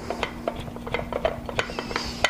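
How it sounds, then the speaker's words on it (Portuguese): Food is rasped across the fine side of a hand grater over a small plate, a quick run of soft, scratchy strokes, close and fairly quiet. "a gente vai ralar, ó, nessa parte mais fina"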